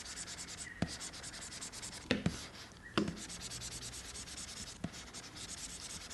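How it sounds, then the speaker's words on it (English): Felt pen tip stroking across the matte glass of an XPPen Artist Pro 22 Gen 2 pen display, a soft continuous scratchy rubbing with a few sharp taps as the pen touches down, close and quiet. "And this is how the pen sounds. I was using the plastic tip earlier, and this is the felt tip."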